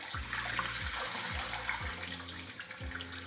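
Water runs from a kitchen tap in quick repeated bursts, splashing into a sink and a partly filled kettle. The pouring is steady and close but fairly quiet.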